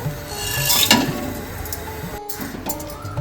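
Masala spice mix roasts in hot oil in a pan for village-style chicken biryani, giving a soft, close sizzle with occasional scraping stirs and a brief pause partway through.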